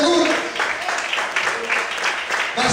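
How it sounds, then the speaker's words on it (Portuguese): A church congregation applauding during an evening worship service, steady dense clapping and crowd noise throughout with a voice talking over it. "Quantos podem aplaudir e glorificar o nome do Senhor nessa noite?"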